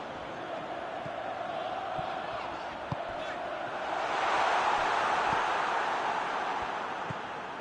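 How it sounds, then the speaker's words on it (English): Crowd noise at a football stadium during a match, a broad continuous roar that swells noticeably midway, with faint thuds and distant shouts scattered through the crowd wash. "the crowd clearly like what they just saw"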